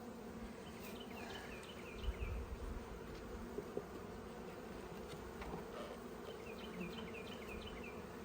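Honey bees in an open hive during an inspection, a continuous faint buzzing drone with a few brief louder passes of individual bees close by.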